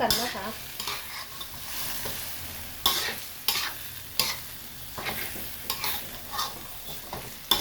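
Pork belly with lemongrass, oyster sauce, soy sauce and fish sauce is stir-fried in a pan, bursts of loud sizzle rising with each toss and scraping stroke of the spatula, close up, rhythmic and unaccompanied by talk.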